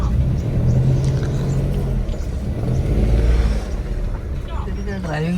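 A car engine hums steadily from inside the vehicle, with people talking over the low rumble throughout.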